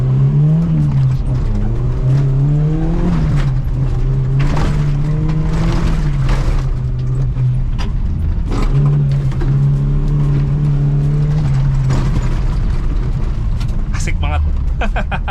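A Suzuki Jimny Katana fitted with adjustable Racepace shocks accelerates along a straight dirt road, its engine loud and close, pitch climbing and dropping through gear changes, with bumps and rattles and people talking over it.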